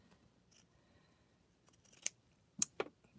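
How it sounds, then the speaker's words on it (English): Scissors snipping rope for a rope basket, a few quiet sharp cuts in the second half after a near-silent start, heard close with no talking. "We're going to cut it."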